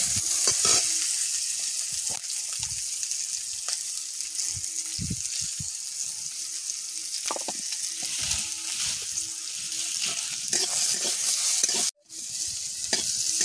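Green mango pieces, green chillies and turmeric fry in a pan, a constant bright sizzle broken by repeated scraping stirs and clinks of a spatula, steady and close, with no one talking.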